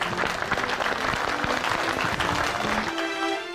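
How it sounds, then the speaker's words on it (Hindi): Audience applause in a comedic Akbar–Birbal story scene: a dense, steady burst of many hands clapping at close range, continuous for about three and a half seconds before easing slightly at the end. "तालियां बजाइए"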